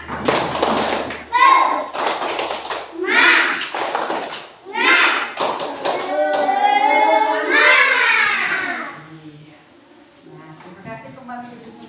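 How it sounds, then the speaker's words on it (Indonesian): Schoolchildren in a classroom perform a clapping chant, rhythmic bursts of group claps and thumps alternating with children's voices chanting together, loud and close, ending in sung or drawn-out vocal lines. "Semuanya tepuk semangat"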